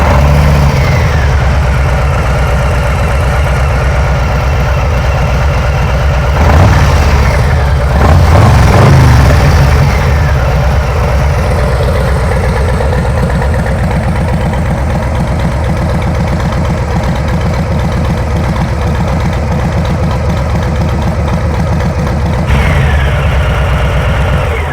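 A 2022 Harley-Davidson Low Rider ST (FXLR ST) with its 117 engine fires up and settles into a loud, close, throbbing idle, a deep rhythmic rumble that swells briefly early on before holding steady for over twenty seconds, with no talking.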